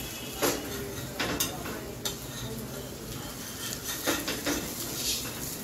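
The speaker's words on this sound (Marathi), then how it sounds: "आता हळूहळू आपण याला साईडने सोडवायचं" A spatula scrapes along the edges of a rava dosa on a hot pan, giving repeated light scraping clicks over a soft, steady sizzle.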